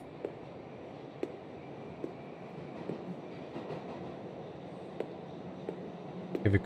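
Train riding on rails in the video game A Memoir Blue, a steady low rumbling ride with faint rhythmic clicks spread across the clip and a slightly louder knock at the very end, with no voices.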